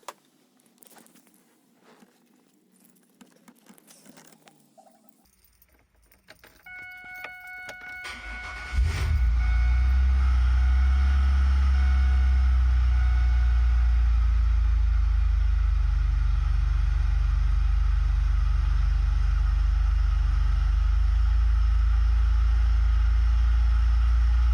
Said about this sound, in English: I'm just going to show you that the car will run anyway